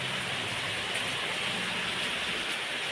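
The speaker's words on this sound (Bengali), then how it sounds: "আবার বৃষ্টি চলে এসছে।" Steady, dense rain pours down with gusts of wind, a continuous loud hiss that never lets up, and no one speaks.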